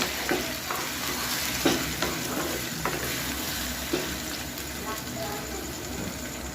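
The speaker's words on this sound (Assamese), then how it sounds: "এতিয়া এইখিনি ভালদৰে লৰাই দিব" Marinated chicken frying in a pan as it is stirred, a steady sizzle with occasional soft scrapes and clinks, close up and moderately loud throughout.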